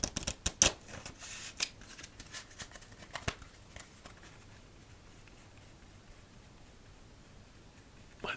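Playing cards shuffled during a solitaire game, giving a quick burst of riffling and flicking at the start, close and crisp, then settling to a few faint soft card sounds and near quiet.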